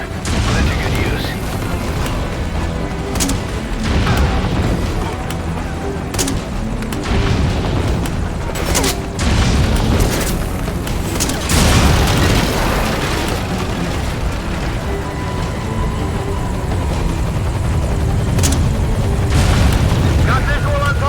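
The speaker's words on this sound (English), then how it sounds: "The rifle is equipped with an underbarrel grenade launcher." Underbarrel rifle grenade launcher explosions in Metal Gear Solid V: Ground Zeroes, a run of heavy booming blasts and sharp bursts at irregular intervals over sustained loud battle noise.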